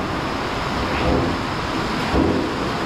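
Heavier rain falls at a tiling job site, a loud, steady wash of drops with low rumbling surges, no one talking.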